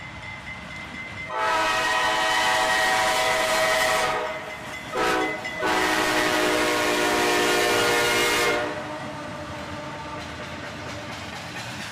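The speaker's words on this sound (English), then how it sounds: "another train arrived on the opposite track, and I barely got the camera up in time" An intermodal freight train's horn sounds in long loud blasts with a brief break as it rumbles past behind an AC44CW diesel locomotive, then the noise fades back to a quiet background hum.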